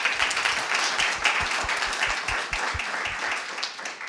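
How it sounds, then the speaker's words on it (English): An audience at a food recovery summit breakout session applauds the panelists, brisk clapping from a modest crowd with a few close, loud individual claps, continuing steadily throughout. "Give them a round of applause."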